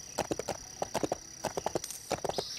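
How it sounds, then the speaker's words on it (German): Horses clip-clop in Lego City Undercover on the Wii U, in the Fort Meadow area: crisp hoof clops in quick rhythmic clusters of three or four, fairly close and clear, with a faint tonal hum behind them. "Überall Pferdchen, Pferdchen, Pferdchen."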